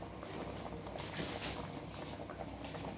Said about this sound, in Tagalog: Op, bubuksan na po natin. Wow, kulong-kulong na.